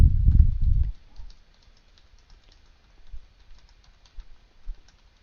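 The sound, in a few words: typing a new folder name on a computer keyboard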